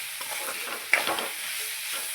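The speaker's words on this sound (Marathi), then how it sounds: "अशी भाजी फक्त तेलामध्ये अशी थोडीशी परतून घ्यायची की लगेच ही भाजी तयार होते" Vegetables stir-fried in oil in a kadhai for a home-cooked Marathi meal, with a steady background sizzle and a brief sharp clatter of stirring near the middle.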